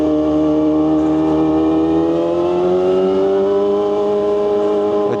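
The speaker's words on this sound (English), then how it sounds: "I definitely have a very loud bike" A loud motorcycle engine revving while riding, a steady close droning roar that slowly climbs in pitch as the bike accelerates, with no talking over it.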